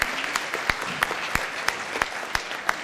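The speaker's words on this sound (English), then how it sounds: "give them a nice round of applause" An audience at a city council meeting claps steadily through the whole moment, a dense ongoing applause with a few louder individual claps standing out.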